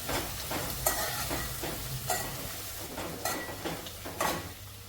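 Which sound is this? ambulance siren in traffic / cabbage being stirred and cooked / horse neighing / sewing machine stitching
cabbage being stirred and cooked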